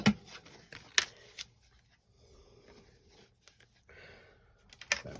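Scissors cut through craft card in a quiet room, giving a few sharp snips and rustles separated by short pauses, close and clear against near silence.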